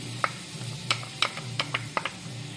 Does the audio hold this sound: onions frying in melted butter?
yes